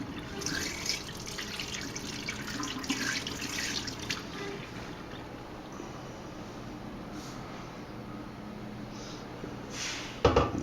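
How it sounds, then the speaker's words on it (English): Wort being decanted off settled yeast during a pilsner brew day, a steady close trickle and pour of liquid running continuously with a brief louder splash near the end. "So you go ahead and decant off a good amount of that wort."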